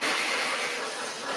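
Lionel model trains run on a home layout, a Challenger locomotive passing with a Big Boy behind it, giving a steady hissing rumble of wheels and motors at close range with no talk.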